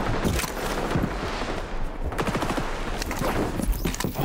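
In XDefiant, an MP7 submachine gun with no attachments fires rapid bursts, fast crackling volleys that come in clusters with brief gaps, along with other gunfire around it, moderately loud and with no talk.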